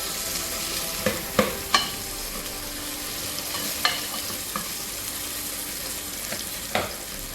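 An ingredient fries in a modest amount of olive oil in a pot over medium heat, giving off a constant close sizzle broken by a few sharp stirring scrapes and clatters.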